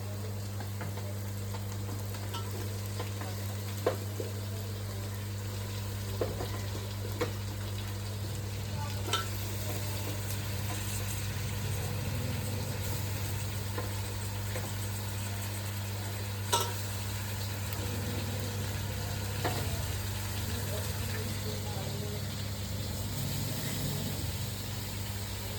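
Chicken pieces sizzle steadily in a pan of fried onion for a Natu kodi curry, with a faint hum underneath and occasional clinks and scrapes as the mixture is stirred.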